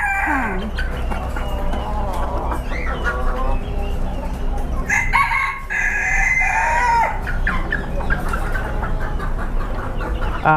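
Indonesian black chickens at a Bangkok animal market crow loudly and cluck continuously nearby, several birds calling over one another with a steady hum of background noise.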